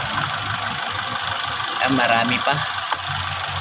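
Honda BR-V car engine idling after an oil change, a steady mid-pitched hum running throughout under someone speaking briefly.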